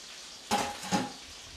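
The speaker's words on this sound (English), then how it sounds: "we're just going to mix all that together. Just stir it together." A spoon stirs lemon remoulade in a bowl, giving two short, soft scraping swishes close by against a quiet background.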